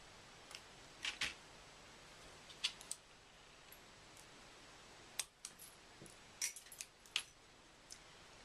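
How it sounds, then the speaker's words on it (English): A piece of silver craft wire is snipped with cutters, giving a few sharp, faint metallic clicks and ticks scattered across an otherwise quiet room. "we're going to cut a piece of wire 6 inches or 15 centimetres"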